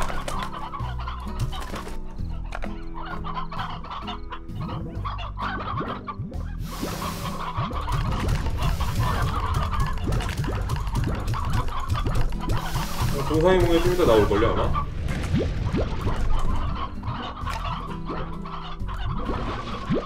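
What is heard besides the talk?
chickens clucking in the video game Slime Rancher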